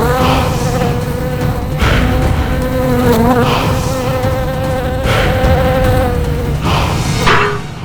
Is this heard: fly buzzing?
yes